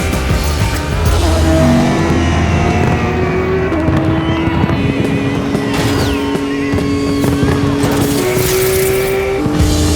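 A Formula One race car screams past on the Las Vegas circuit, its high engine note climbing through gear changes with a loud, close rush and continuous roar.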